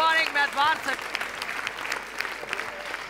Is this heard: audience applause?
yes